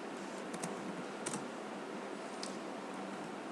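Typing on a computer keyboard while entering a database query, a close series of sharp key clicks in small clusters over a steady background hiss, with no talking.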